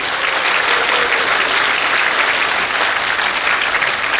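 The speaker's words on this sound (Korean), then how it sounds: "박수 한번 쳐주십시오." Sustained applause fills a high school graduation ceremony, a dense, steady wash of many hands clapping loudly from start to finish with no speech over it.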